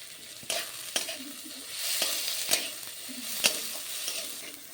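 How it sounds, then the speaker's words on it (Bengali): Green peas being stirred and fried in a wok, with a steady sizzle and repeated scraping clicks of the spatula, close and alone. "ওই মটরটা আমি দিয়ে দিচ্ছি কড়াইতে, দিয়ে ভালো করে একটু নাড়িয়ে নেব।"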